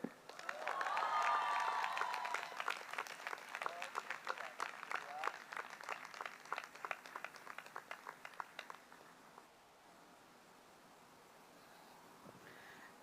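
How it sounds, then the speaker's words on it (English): An audience at a convocation ceremony cheers and applauds loudly. The noise is densest and loudest in the first few seconds, then thins into scattered claps and fades to quiet murmuring near the end. "And one last cheer for Priyanshu Jain."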